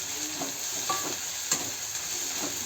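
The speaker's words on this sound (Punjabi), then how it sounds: "ਨਾਲ ਹੀ ਆਪਾਂ ਹੁਣ ਟਮਾਟਰ ਮਸਾਲੇ ਨੂੰ ਆਪਾਂ ਚੰਗੀ ਤਰ੍ਹਾਂ ਭੁੰਨ ਲਵਾਂਗੇ" A pan sizzles steadily as a thick tomato masala fries, with a few soft scrapes and taps of a spoon stirring, quiet and without talk.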